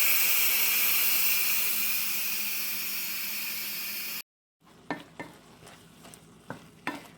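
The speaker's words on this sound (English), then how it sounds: "I'm just going to lift it up and turn it and let all the steam come out until I'm able to open up the lid on my Instant Pot" Steam vents in a loud, steady hiss from an Instant Pot pressure valve for about four seconds, then cuts off abruptly, followed by a few soft clicks and knocks.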